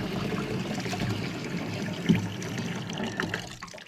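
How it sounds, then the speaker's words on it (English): A soaped muskrat hide is rinsed in water, giving a continuous close splashing and trickling wash with small slosh bursts that fades slightly toward the end. "I'm just going to go ahead and rinse them too."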